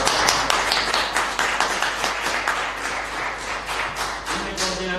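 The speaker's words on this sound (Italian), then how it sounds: "Anche un applauso." Applause at a conference, steady broadband clapping from an audience heard at a distance, fairly quiet and continuous throughout.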